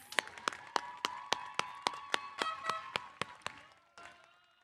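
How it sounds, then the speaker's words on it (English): Audience applause for graduating scholars at a high school commencement ceremony: a thin scattering of sharp, distinct hand claps in a steady rhythm, close by and fairly quiet, slowing and fading out near the end. "Another round of applause, please, for our distinguished scholars."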